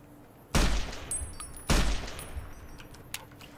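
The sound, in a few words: service rifle gunfire in the video game Fallout New Vegas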